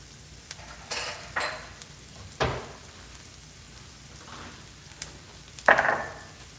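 A bowl is lifted and handled in a home kitchen during egg and omelette cooking, with a few scattered soft clinks and knocks of dishware against a counter, faint and spaced apart, plus one brighter ceramic clink near the end.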